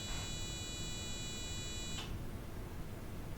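The safety buzzer on a disinfection unit sounds a steady electronic tone for about two seconds and then cuts off abruptly, fairly faint against a constant background hiss.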